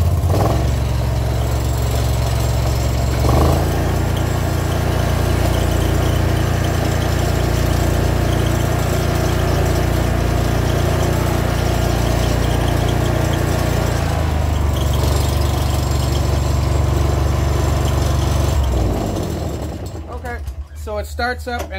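A zero-turn riding mower's small engine cranks and catches, then settles into a loud, steady, close idle for nearly twenty seconds before shutting off, with a few clicks and mechanical rattles near the end.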